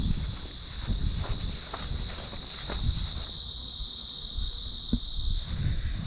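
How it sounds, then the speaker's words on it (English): A chorus of insects, including crickets, chirps steadily on a nature reserve trail in New York, a continuous high-pitched trill layered over close rustling footsteps on the ground. "Fantastic insect choir here."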